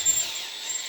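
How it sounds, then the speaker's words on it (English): A power drill bores into a hard angle iron bed frame on a 1955 Pontiac project, giving a steady high whine with grinding bite, close and continuous for a moment. "angle iron is notoriously hard to drill when it's bed frame"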